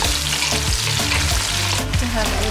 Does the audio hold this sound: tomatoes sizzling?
yes